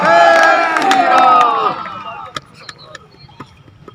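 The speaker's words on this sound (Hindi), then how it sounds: "जोरदार तालियों के साथ उद्घोष करते हुए जय जय श्री राम" Rally crowd at a Hindu religious gathering in Sikar roars with chanting voices and cheers, loud and dense at first, then fading after a couple of seconds into scattered claps and calls.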